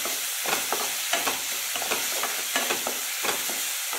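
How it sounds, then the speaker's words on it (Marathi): Chopped onion with turmeric frying in hot oil in a pan, with a steady sizzle and repeated scraping stirs of a spoon, close and continuous with no talking. "आणि हा आपला चॉप केलेला कांदा घालूयात आपण। कांद्याला छान असं ब्राऊन करून घेऊयात आपण"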